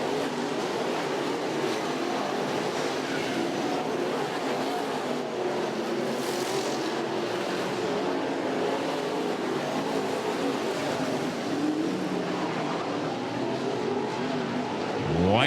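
Modified race cars roar around a short track during a 75-lap A Main at the East Bay Winter Nationals, making a loud, continuous engine drone that swells slightly as cars pass.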